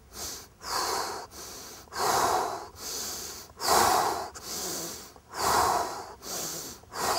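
Forceful accelerated breathing during push-ups, sharp nasal inhales alternating with longer exhales through the mouth, about six close, loud breath cycles in an even rhythm.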